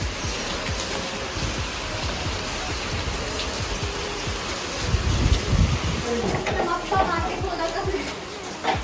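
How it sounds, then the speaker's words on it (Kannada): Constant rain patters heavily, growing a bit louder midway, while a person talks over it. "ಮಳಿ ಐತ್ರಿ ಮಳಿ ಬಿಡಾತೇ ಇಲ್ಲ ಎಷ್ಟು ಮಳಿ"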